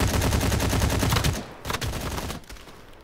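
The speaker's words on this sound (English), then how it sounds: "dude, I was getting sniped." Dense bursts of automatic gunfire from the Battle Prime mobile shooter game, loud rapid rattling for over a second, then a few scattered shots fading off.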